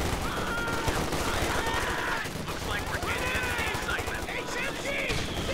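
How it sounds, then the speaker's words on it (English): Dense battle noise from a Company of Heroes 2 match, with steady rattling gunfire and bursts running throughout, one of them a concussive grenade, while a commentator talks over the action. "Concussive grenade there from Charlie Tango"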